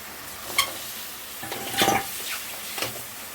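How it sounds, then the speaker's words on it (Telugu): Five eggs fry in a pan with a soft background sizzle, broken by a few quiet stirring scrapes and clinks from the utensil against the pan. "ఇప్పుడు ఈ 5 ఎగ్స్ అయితే వేసి ఫ్రై అయితే చేసేసుకుందాం"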